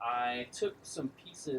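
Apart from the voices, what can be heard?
None of the usual background noises is heard.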